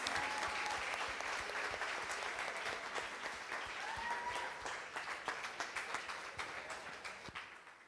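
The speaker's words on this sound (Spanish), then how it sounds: "¿Por qué no le das un fuerte aplauso al Señor por lo que Él ya empezó a hacer en cada uno de nosotros?" Sustained applause from a large crowd at an evangelical revival tour service, full and even at first, then thinning into more distinct, separate claps toward the end, with faint voices mixed in.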